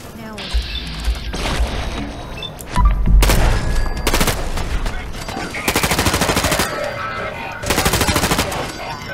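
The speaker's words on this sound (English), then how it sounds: "Okay, he has the nail gun." A robot firing a nail gun in Fallout 4's Automatron add-on: repeated loud rapid-fire bursts and sharp bangs amid booming game combat, with someone talking over it.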